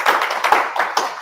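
A short burst of hand claps during a news talk show segment, a few uneven irregular claps from a small group, close and fairly crisp.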